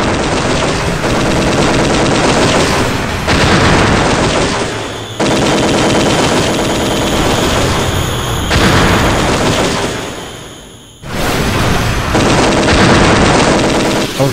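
Rapid weapon fire from the 1995 Philips CD-i shooter Chaos Control, loud and dense in long sustained bursts separated by brief drops, with no talk over it.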